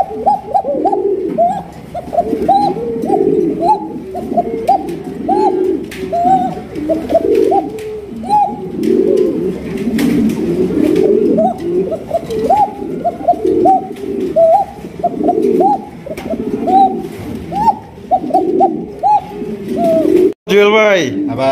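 Many pigeons coo steadily and overlap at a large pigeon farm, a dense, continuous chorus of low throaty calls close by, with occasional louder bursts near the end.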